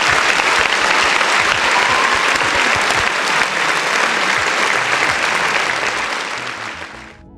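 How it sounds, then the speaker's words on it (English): A loud, dense burst of crowd applause and clapping plays alone for about seven seconds, steady throughout before tapering off at the end, inserted as a sound effect on a talk stream. "round of applause to the folks in the chat"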